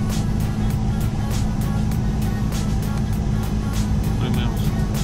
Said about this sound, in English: Why does it get a weird idle and long starting time?